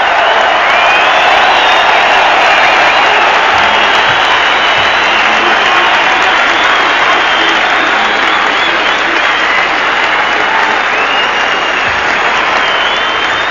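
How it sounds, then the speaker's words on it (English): Big stadium crowd at a 1991 Australian football match between Adelaide and Hawthorn roars and applauds continuously, a loud dense wash of cheering that never lets up. "this big crowd standing as one"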